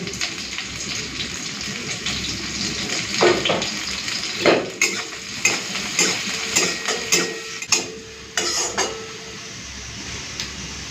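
Onions and green chillies fry in hot oil for a masoor dal tempering, a steady hiss broken by a run of clattering utensil knocks and scrapes against the pan.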